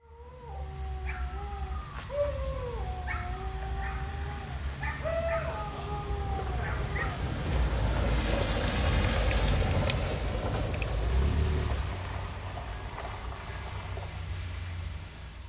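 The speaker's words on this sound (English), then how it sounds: "That's the sound of some dogs howling as a truck pulls up." Several dogs howl in overlapping, wavering tones over a steady low rumble as a truck pulls up in rural Barnstead, New Hampshire, the engine growing louder midway before easing off.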